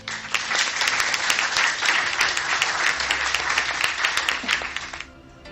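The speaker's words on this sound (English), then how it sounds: "Let's give Team Energy a warm round of applause." A conference audience at a leadership colloquium applauds with dense, sustained clapping for about five seconds, loud and steady before it suddenly tapers off, with no talk over it.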